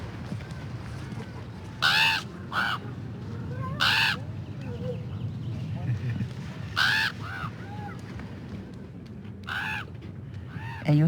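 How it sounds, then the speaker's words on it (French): Crows caw in several short harsh bursts at a rural First Nations village, Kingcom (Gwa'yi) in British Columbia, with calls spaced out over a steady low background rumble, fairly close and clear. "Entendez-vous les corbeaux?"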